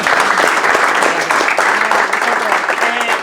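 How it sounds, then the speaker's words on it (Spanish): Audience applause for Patricia after a talk on historic heritage regulations, a steady, fairly loud wash of clapping from a seated crowd throughout. "Un aplauso fuerte para Patricia."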